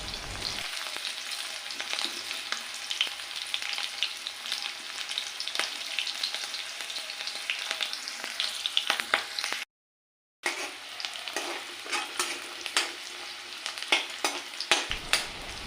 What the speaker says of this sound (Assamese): কেৰাহীটো গৰম হোৱাত ইয়াতে মই মিঠাতেল দি দিছোঁ আৰু মিঠাতেলখিনিও গৰম হোৱাত মই কাটি থোৱা পিঁয়াজ